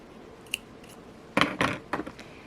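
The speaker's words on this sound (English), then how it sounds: "And now I will take the scissors, cut" Scissors snipping jewelry thread close up, a small click and then a quick cluster of three or four crisp cuts with no one speaking.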